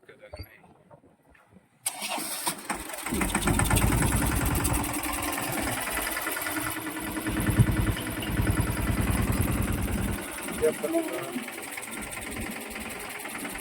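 A tractor engine starts up on a farm and keeps running with a steady, loud mechanical chugging that rises and falls a little, while voices talk over it.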